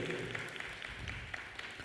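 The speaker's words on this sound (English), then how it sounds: "Clap for yourselves, ladies and gentlemen" An audience claps through the full length at a provincial film indaba in KwaZulu-Natal. The applause is steady and moderately loud, with scattered individual claps standing out.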